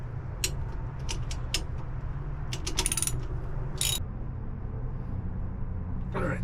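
Hand ratchet clicking in several short bursts while MerCruiser exhaust manifold bolts are tightened in a corner-to-corner pattern, close and moderately loud over a steady low hum, with a final longer ratcheting run near the end.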